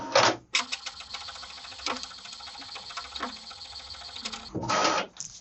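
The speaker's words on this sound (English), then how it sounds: "and right away pulling the paper back to print on the second side" An HP Envy 6120e inkjet printer draws the sheet back in for duplex printing: a loud feed burst, then a sustained whirring mechanism with ratcheting clicks, ending in another loud grinding surge close by.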